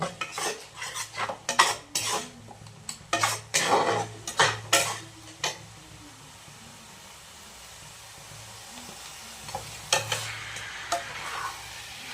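Spices with cumin powder and chilli powder being stir-fried for ghugni: a metal spoon clatters and scrapes against the pot in quick bursts over a low sizzle, which carries on alone after the stirring eases, then brief clinks return.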